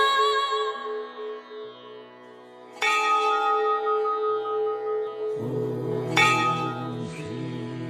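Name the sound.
temple bell ringing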